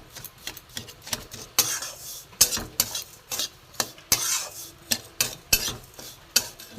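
Semolina and milk are stirred and fried in a pan with a spoon, making close, rhythmic scraping strokes against the metal over a soft sizzle, about a dozen sweeps in quick succession.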